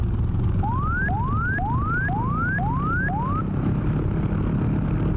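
A repeating electronic cockpit warning alarm in an OH-6 helicopter in the DCS flight simulator sweeps upward in short chirps, six in a steady rhythm, over a constant low engine hum during a cold start.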